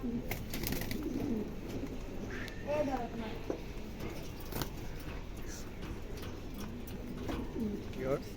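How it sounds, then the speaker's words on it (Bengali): A racing pigeon, an almond racer cock, coos repeatedly nearby, soft throaty warbling calls coming in short bursts over a quiet background. "কবুতরটা কি পরিমাণ ডাকতেছে"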